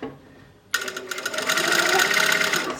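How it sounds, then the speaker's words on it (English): Sewing machine stitching a thick fabric collar, starting abruptly and running at a steady, fast mechanical rhythm, close and loud. "sew the rest of the collar."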